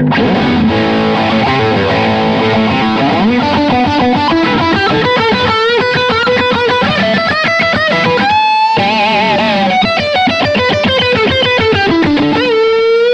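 Electric guitar played through the overdrive channel of a Blackstar HT MK III amp, loud and distorted, with continuous riffing and a brief break midway, no voices.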